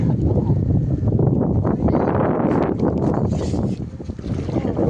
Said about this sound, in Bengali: দেখছেন এই যে নৌকা ছেড়ে যাচ্ছে।